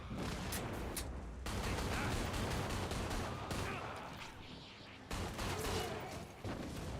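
Gunfire in the video game Killing Floor 2, dense rapid shots forming continuous bursts that break off briefly and resume, fairly distant and muffled.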